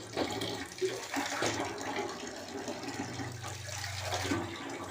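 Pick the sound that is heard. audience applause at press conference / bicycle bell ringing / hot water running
hot water running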